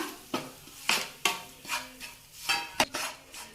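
Turmeric, garam masala, cumin and coriander being stirred into hot oil in a pan, a run of close scraping, clinking spoon strokes at an uneven rhythm over a faint sizzle, with no talk.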